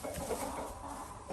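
Brahma hens cluck in a farmyard where laying hens are kept, a steady mix of close, moderately loud clucks and fowl calls that runs throughout with no talking.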